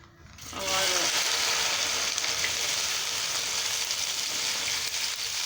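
Okra dropped into hot oil for bhindi sabzi sets off a sudden loud, steady sizzle that holds without a break after a brief quiet start.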